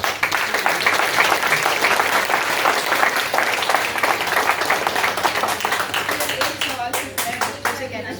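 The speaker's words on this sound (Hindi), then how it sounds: "एक तालियां आप सब लोगों के अपने लिए।" Sustained audience applause at a waste-management program in an institute hall, loud continuous clapping from many people that thins toward the end into a few distinct claps.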